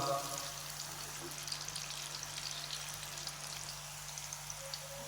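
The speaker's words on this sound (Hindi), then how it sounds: "ये इसका दूसरा बैच मैंने डाल दिया है। इसको भी मैं हाफ फ्राई कर लूँगा।" A second batch of potato fries, KFC-style homemade French fries, half-frying in hot oil: a soft, continuous bubbling sizzle with scattered pops, fairly quiet and steady throughout.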